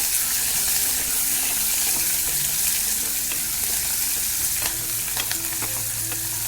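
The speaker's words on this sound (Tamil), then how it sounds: "நல்லா வதங்கட்டும்." Chicken uppu kari masala, Chettinad style, sautéing in a pan before chicken goes in: a steady, dense sizzle of frying fills the whole stretch, with occasional scrapes of stirring breaking through near the end.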